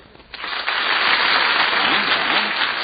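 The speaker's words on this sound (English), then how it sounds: "Applaud." Studio audience at a game show applauds in response to a question, clapping rising sharply after a quiet start and holding steady and loud to the end.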